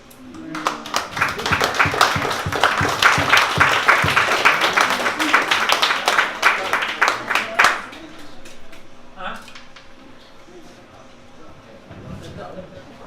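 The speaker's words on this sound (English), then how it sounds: "Let's have a nice warm round of applause for Molly Bennett again." Audience at a poetry reading bursts into warm applause, loud dense clapping from a crowd lasting several seconds before fading into quieter room murmur.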